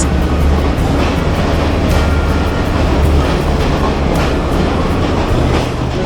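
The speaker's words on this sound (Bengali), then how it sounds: "সো আমরা ট্রেনে উঠে পড়ছি" A Sri Lankan train from Nuwara Eliya to Ella rumbles steadily throughout, with a deep low-end roar and faint rhythmic clacking of wheels on track, loud and close, no voices.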